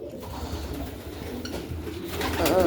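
Racing pigeons kept for breeding coo softly in a loft. Low, throaty rolling calls run continuously and grow louder toward the end, with faint rustling and a brief voice in the background.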